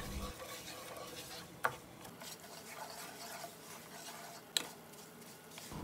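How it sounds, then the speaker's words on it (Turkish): Thin vermicelli noodles toasting in a pan give a soft, steady sizzle with faint scraping from stirring and two sharp clicks of the utensil against the pan. "Şehriyelerin rengi dönene kadar kavuralım."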